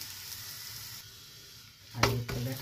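Onion and besan paratha frying in ghee on a griddle, a soft steady sizzle that swells louder near the end with brief bursts, as if the paratha is pressed or turned.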